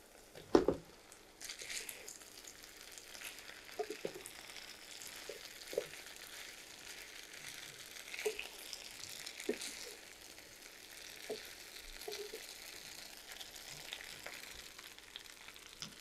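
Potatoes fry with garlic in a pan, giving a soft continuous sizzle with occasional stirring scrapes and clinks, fairly quiet and close, with no talking.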